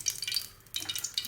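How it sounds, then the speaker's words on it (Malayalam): Mustard seeds crackling in hot oil for a Kerala-style curry tempering, a dense bright sizzle with scattered quick pops, close and fairly steady with a short dip midway. "കടുക് പൊട്ടിച്ച് കറിവേപ്പില ഇടുക"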